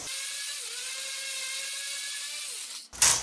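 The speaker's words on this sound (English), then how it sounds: "I think I might pull out the sander." A power sander runs steadily on a wooden axe handle during a restoration, a smooth whirring drone with slight pitch shifts, then it cuts off near the end followed by a brief louder noise.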